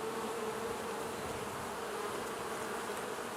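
Honey bees swarm over an opened beehive in a dense, steady buzzing hum, close and continuous with no voices.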